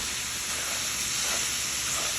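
Jimmy Dean sausage sizzling in a frying pan while being pressed flat with a smasher; a steady, fairly quiet hiss and crackle holds for a couple of seconds with no talking.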